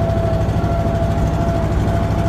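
A tractor engine runs roughly, giving a steady, close, low mechanical rumble with a faint constant hum and uneven vibration throughout, with no voices.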